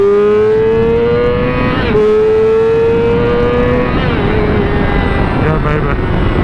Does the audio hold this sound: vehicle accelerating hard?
yes